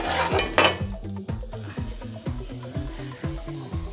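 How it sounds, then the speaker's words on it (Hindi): Spices and turmeric are roasted in a pan for chana pulao, with a run of rapid, evenly paced metallic clinks and scrapes of a spoon against the pan, fairly close and loud, and a burst of sizzle and hiss at the start. "1 मिनट तक हम मसालों को अच्छी तरह से भून लेंगे।"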